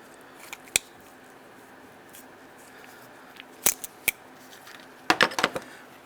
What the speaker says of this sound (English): we need to remove this hose clamp.